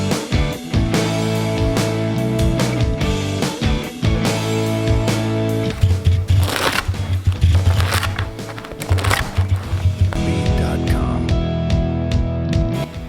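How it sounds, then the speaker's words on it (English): A knife saws through a loaf of stale, overnight-dried French bread and chops it into cubes, producing loud, close crackling and crunching strokes in repeated bursts. "We're gonna cut into it and then we're gonna cube it."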